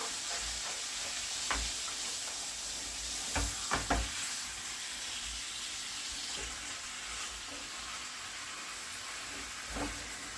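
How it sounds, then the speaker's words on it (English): Mutton sizzles as it fries on its own in a pot before any water is added, a steady close hiss with a few soft clinks and stirring knocks. "Just frying it up a bit by itself without pouring water in it as yet"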